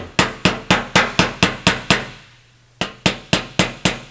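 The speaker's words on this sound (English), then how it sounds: "I was going to hit it with the hammer just to cold forge it together a little bit here" A hammer strikes a welded 1933 Ford car fender backed by a dolly: about a dozen sharp metallic blows in an even, quick rhythm, with a brief pause partway before the blows resume.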